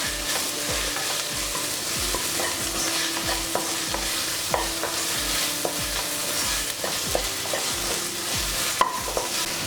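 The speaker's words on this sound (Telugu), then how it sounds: "పసుపు అలానే తగినంత సాల్ట్ వేసుకొని కలుపుకుందాం." A spoon stirs turmeric and salt into a masala idli mixture frying in a pan, scraping in a steady repeated rhythm over a constant close sizzle, with no talking.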